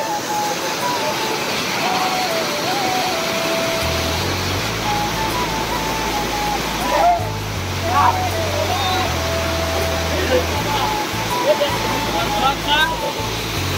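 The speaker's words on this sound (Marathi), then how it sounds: "हा धबधबा आहे, इकडे सगळे लोक मजा करत आहेत ना" Waterfall at an Ekvira outing, with people bathing beneath it: a constant loud roar of falling water fills the whole span, while voices talk and call out over it.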